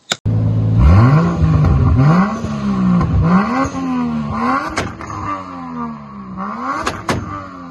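A turbocharged Lexus IS300 drifting, its engine revving hard in rising and falling sweeps with loud, close rumble, a few sharp clunks near the end and no talking.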